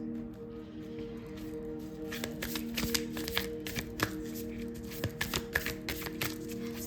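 Tarot cards being shuffled by hand, a quiet stream of soft riffling flicks and taps that grows busier and more rhythmic toward the end, close and low over a faint steady hum.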